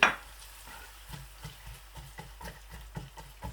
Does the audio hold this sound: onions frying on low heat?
yes